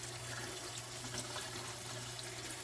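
Cold tap water runs steadily into a kitchen sink, making a continuous close hiss and splash that holds at an even level throughout with no talking.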